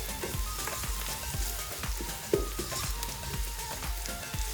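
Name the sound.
potato fenugreek curry with spices stirred in pan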